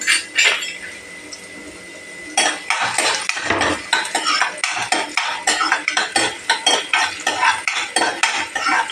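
Chicken gravy sautés in a pan, driven by brisk rhythmic stirring: a ladle clanks and scrapes against the metal in quick repeated strokes over a soft frying sizzle, after a short quieter stretch, with no talking.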